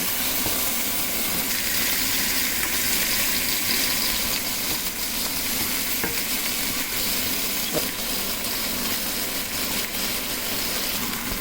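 Onion and garlic frying with chepa shutki (dried fish) in a pan give off a steady, loud, dense sizzle that crackles without a break from start to finish.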